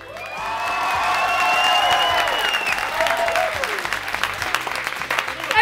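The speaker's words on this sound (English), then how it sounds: "give him a big round of applause" Audience applause with cheers and whoops rings out at a school dance, loud and sustained, while an electronic tone sweeps over the crowd noise and the clapping thins toward the end.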